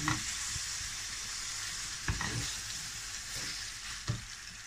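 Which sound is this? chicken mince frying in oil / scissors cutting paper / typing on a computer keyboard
chicken mince frying in oil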